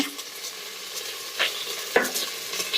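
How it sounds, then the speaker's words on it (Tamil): Ginger garlic paste and green chilies frying in oil for mutton biryani, a steady close sizzle with a few sharp scrapes of a stirring spoon against the pan, no talk. "இஞ்சி, பூண்டு விழுது, பச்சை மிளகாய் போடுறாங்க."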